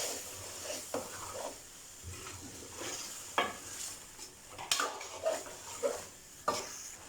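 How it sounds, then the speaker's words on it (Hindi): Large-cut tomatoes fried and stirred in a pot for beef palak gosht give a soft sizzle, punctuated by scattered spoon clinks and knocks against the metal, with no talking. "टमाटरों को थोड़ी देर भून लिया है हमने"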